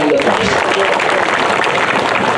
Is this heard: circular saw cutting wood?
no